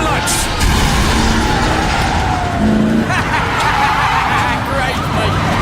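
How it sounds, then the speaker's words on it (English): Police sirens wail during a car chase in the video game The Darkness, with engine roar and traffic noise running steadily throughout and a rising, sweeping siren tone layered in the middle and toward the end. "I heard the sirens."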